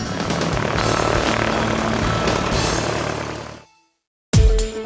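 A Beechcraft Staggerwing biplane's radial engine and propeller drone steadily and loudly with a throbbing beat, then fade out into silence before another loud sound cuts in.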